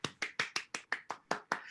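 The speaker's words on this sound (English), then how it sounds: "Let's give him a nice round of applause." Nine evenly spaced, crisp hand claps ring out at a steady rhythm, close and clear, like a single person or small group clapping at a livestreamed comedy show with no talk over them.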